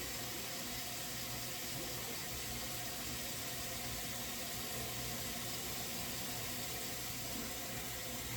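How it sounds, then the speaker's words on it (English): A kitchen tap runs steadily while water is collected for cooking soup, a continuous hissing flow at moderate level with no break and no talking. "Good, I'm getting some water"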